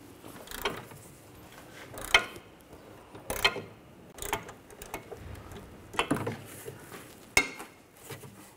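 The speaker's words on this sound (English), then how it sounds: "I'm going to take these two bolts out, use a 13mm socket." A 13mm socket ratchet works sway bar bracket bolts loose on a 2004–2009 Audi A4 Quattro, with intermittent clicks and metallic clanks spaced irregularly over a quiet background.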